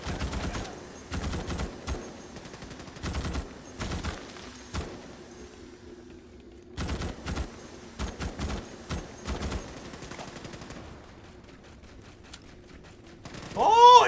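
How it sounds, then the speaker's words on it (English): Video game troopers and bug creatures trade fire in repeated short bursts of crackling gunfire, separated by brief pauses, moderately loud against a quiet background, ending with a louder shrieking cry. "They're shooting at us."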